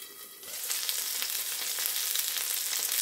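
A gluten-free flourless cheesy pizza cooks in a pan with a bright, steady sizzle that swells in after a quiet moment and stays close and continuous with no talking.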